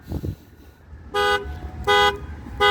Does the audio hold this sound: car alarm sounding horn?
yes